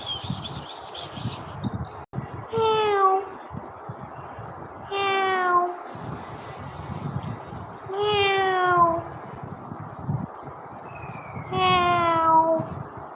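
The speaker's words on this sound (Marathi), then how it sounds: "मांजर आले, मांजर बघ की उठ." A cat meows four times at a steady spacing, each call clear and fairly close, over a busy household background with low rumbling noise.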